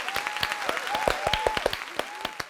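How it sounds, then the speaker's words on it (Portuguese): An audience claps along in sparse, uneven hand claps, fairly close and moderately loud, while a sustained tonal voice or whistle sounds underneath. "Palmas."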